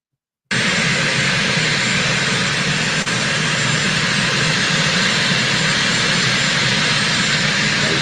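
Marine One aircraft engines give a loud, steady, continuous roar with no letup, heard fairly close and alone, broken only by a brief click partway through.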